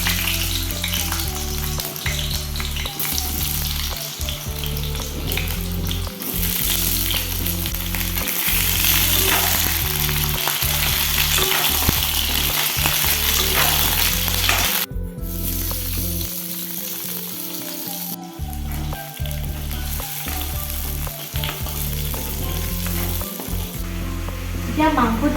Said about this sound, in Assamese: আৰু ইয়াতে এতিয়া আলুখিনি ভাজি লওঁ।